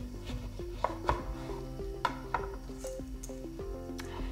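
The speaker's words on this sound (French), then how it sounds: "Alors on coupe le citron en 2." A knife cuts a lemon in half on a board with several sharp taps and soft squishes, set against a steady background hum.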